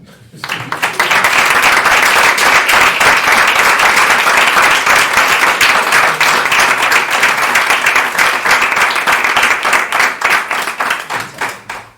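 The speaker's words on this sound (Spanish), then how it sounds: "Como mínimo un aplauso." Sustained audience applause at a book presentation, a dense, steady wash of clapping hands that swells in quickly, holds loud for about ten seconds, then tapers off at the end, with no talk over it.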